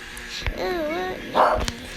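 A dog gives a drawn-out whining bark close by, rising and falling in pitch, followed by a short sharp yelp.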